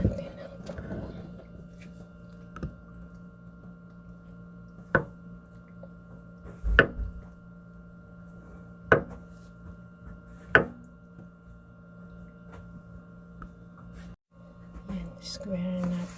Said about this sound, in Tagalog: Slicing lang natin ang tokwa.